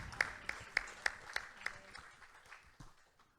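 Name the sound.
church congregation applauding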